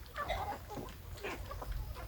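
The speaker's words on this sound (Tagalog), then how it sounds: "Laging gutom na itong ating mga manok." Hungry hens cluck in short, busy bursts as they are fed, several calls overlapping up close over a low background rumble.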